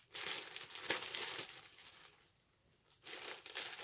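Crinkly plastic and paper packaging around a new MZ Wallace Metro Small bag being handled and pulled apart up close, loud rustling bursts with a short quieter pause before more crackling.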